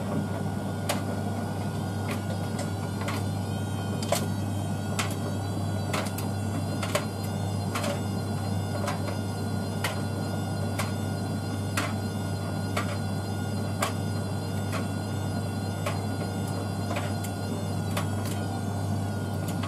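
A Bosch WAK28260GB washing machine runs a wash cycle with a steady hum and regular clicking or knocking pulses as the drum turns, close and constant.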